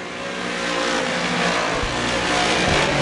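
Modified race cars lap a dirt oval at Merrittville during a heat race, engines roaring loudly and steadily, a dense mid-pitched drone with rising revs as the pack runs single file through a turn.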